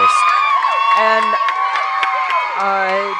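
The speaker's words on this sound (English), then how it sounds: "that is the crowd getting really into it right now" A crowd at a girls' water polo game cheers loudly and steadily, with high shouts, whoops and sustained, pitched voices rising over the din throughout.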